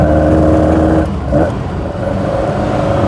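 Fiat 131 Mirafiori Sport/Racing on twin Dell'Orto carburettors giving a loud, steady induction roar from inside the car, a rich droning engine note that dips briefly then holds on, with no one talking.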